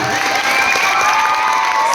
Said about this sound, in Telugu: ఒకసారి గట్టిగా చప్పట్లు కొట్టండి అమ్మా